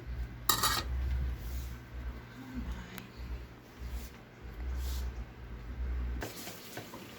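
Onions and rice frying in a pot on a home stove, a faint steady sizzle with occasional clinks of utensils against the pot at a close, quiet level.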